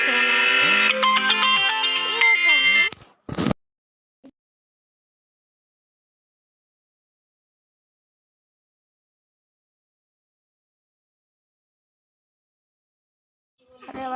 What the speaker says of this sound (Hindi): अरे भाई सब किसी का फ़ोन आया था।